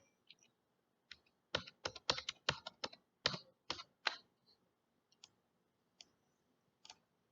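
Keys clatter on a computer keyboard while entering a shortcut during LabVIEW programming, with a quick burst of crisp, close clicks that thins to a few scattered taps. No one speaks.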